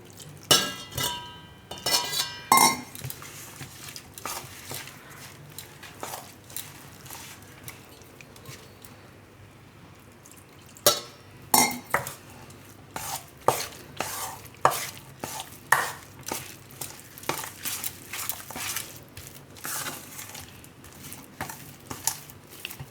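A spoon or whisk stirs pancake batter in a bowl as buttermilk is added bit by bit, giving close, irregular scraping and clinking strokes with a quieter pause midway.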